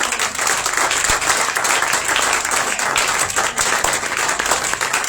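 A church congregation at a commemoration service applauds to acclaim the Lord, a dense, sustained round of clapping from many hands that carries on evenly for several seconds.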